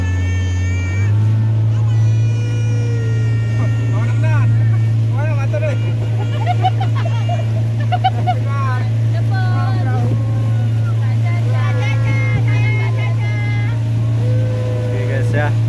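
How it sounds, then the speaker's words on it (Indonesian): On Lake Lut Tawar in Takengon, Aceh, a boat's engine drones low and steady from start to finish, loud and close, while people talk over it. "Sedang naik kapal."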